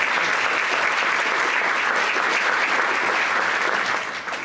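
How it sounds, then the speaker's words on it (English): A crowd at a high school senior night breaks into sustained, loud applause, dense clapping that continues evenly for several seconds before beginning to taper off. "How about a round of applause for all that they"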